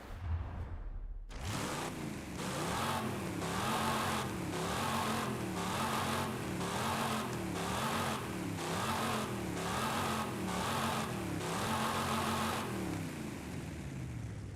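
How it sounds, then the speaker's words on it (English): Tuned race car in a racing video game revving hard and continuously, engine pitch rising and falling in repeated waves with a loud, steady roar and no talking. "Just because I want to hear the car."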